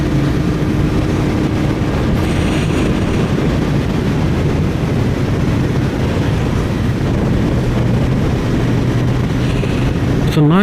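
A Royal Enfield Interceptor 650 motorcycle on the move along backroads, a steady loud engine drone with heavy wind rush throughout, no pauses.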